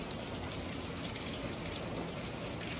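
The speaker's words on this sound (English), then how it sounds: "I am grateful that it's raining" Steady rain falls in San Diego, a dense, even hiss of drops with no breaks, moderately loud and close, with no voices.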